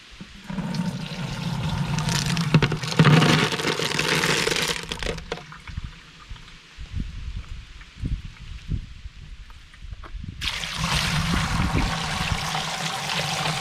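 Running water rinses polished rocks after a tumbling step, a steady splashing wash with rattling and clicking stones, pausing briefly before the flow resumes.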